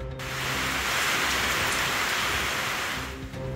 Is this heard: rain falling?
yes